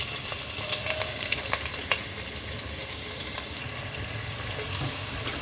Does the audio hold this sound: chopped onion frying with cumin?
yes